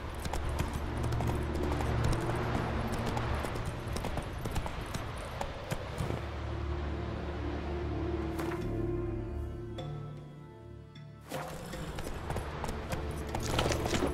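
Horse galloping in The Witcher 3: a fast, steady clip-clop of hooves over a long stretch, dipping briefly before the pace picks up again.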